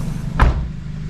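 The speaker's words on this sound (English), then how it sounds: "Shut all your doors." A single car door thuds shut, a short low slam standing out alone against a steady background hum.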